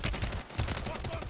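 Shotgun blasts in a first-person shooter video game, a quick burst of sharp broadband bangs packed close together over about a second.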